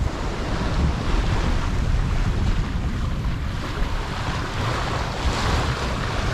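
Wind roars over the microphone and waves rush against the hull of a sailboat under a small genoa and single-reefed main in 20 knots of wind off the Canary Islands, a constant loud wash with no talking.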